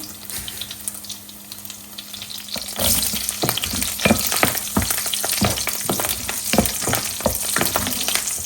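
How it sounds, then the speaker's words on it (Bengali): Green chilies and garlic fry in a pan with a steady, close sizzle, punctuated by sharp stirring clicks and scrapes that grow busier and louder partway through. No one speaks. "কাঁচামরিচ হালকা একটু ভাজা হচ্ছে"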